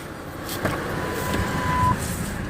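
A car engine held at a raised idle of about 2,500 RPM, warmed up to operating temperature with the front wheels up on ramps, a steady close hum with a faint whine, no talk.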